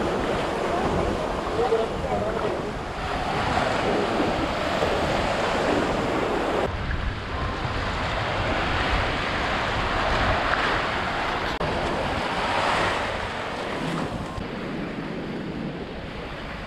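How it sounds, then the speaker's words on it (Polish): Surf rolls continuously onto a hotel beach on Koh Samui, a steady broadband wash with gusts of wind buffeting the microphone throughout, no clear break between waves. "A tak wygląda plaża przy naszym hotelu."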